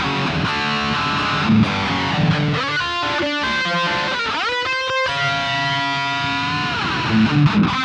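An electric guitar plays chords and melodic lines through a Synergy SYN 2 amp with a sweeping, swirling phaser effect, steady and fairly loud, no talking.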